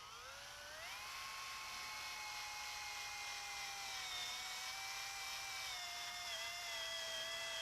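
A steady high-pitched whine of a reamer drilling through metal tube, rising in pitch at the start and then holding a continuous tone.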